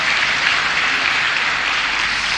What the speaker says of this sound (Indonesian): kita beri tepuk tangan kepada Pak Luhut